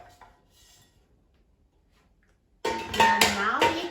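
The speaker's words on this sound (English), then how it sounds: "Now let me transfer it to a bowl." Cooked okra, roasted from frozen in an air fryer, tips from the basket into a bowl with a sudden loud clatter of metal and ceramic near the end, after a quiet stretch.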